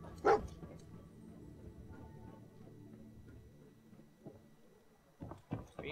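A companion dog in the video game Fallout 4 lets out one sharp, loud bark, followed by a quieter stretch, then a few more short barks and yips near the end.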